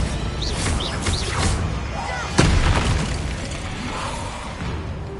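A Confringo blasting spell from the Hogwarts Legacy game lands with a sharp, loud boom midway, then decays into a rumbling tail, while a voice speaks over the game's ambient noise around it.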